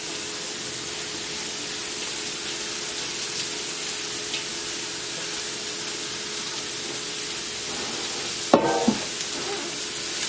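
Cauliflower rice stir-frying in a pan with sesame oil, a steady close sizzle throughout, with a brief louder scrape or clatter of stirring near the end and no talking.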